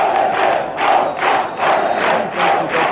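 Torres supporters in red and blue chanting in the stadium at an away football match against Stintino, a loud rhythmic crowd chant rising and falling in regular waves.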